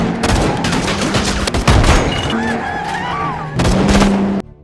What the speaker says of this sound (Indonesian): terlihat dua kelompok gangster bengis, yang sedang terlibat baku tembak secara membabi buta.